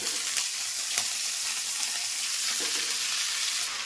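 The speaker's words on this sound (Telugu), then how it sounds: "ఈ తోటకూరని మనం ఇందులో వేసేసుకోవాలి" Washed amaranth leaves hiss and crackle in a hot pan, a steady bright frying sizzle with a few soft stirring knocks, close and alone without talk.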